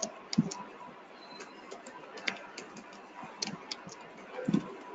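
Sharp, light clicks from a computer mouse, scattered irregularly across a quiet room tone, some single and some in quick pairs, fairly close but soft.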